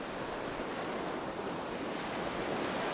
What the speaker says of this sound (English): The waves are viciously splashing against the cliffs and rocks, turning the turquoise water white with bubbles.